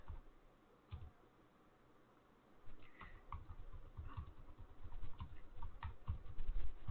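Computer keyboard typing, faint and sparse at first, then a steady run of soft clattering keystrokes that grows a little louder toward the end, with no talking.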